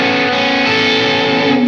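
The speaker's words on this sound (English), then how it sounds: "you can get those chiming, slightly distorted fuzz sounds" An electric guitar chord rings through a Silktone germanium fuzz pedal, a steady, loud, slightly distorted chiming fuzz tone sustained alone without a break.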